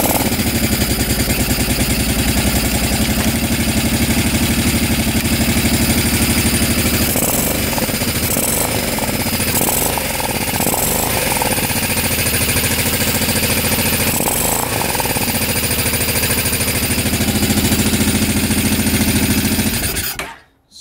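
A barn-find mini bike engine, unrun for over 20 years and fitted with a faulty carburetor diaphragm, runs loudly and steadily for about twenty seconds. The engine note wavers in the middle, then cuts off abruptly at the end.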